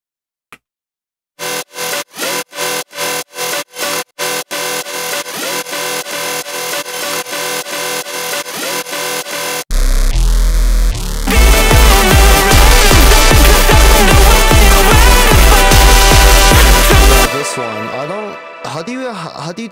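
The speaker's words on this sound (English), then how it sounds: "It's a bass shot, definitely." A synth bass shot in a music remix plays as a loud electronic passage, with stuttering chopped bursts giving way to a sustained, heavy bass-laden tone.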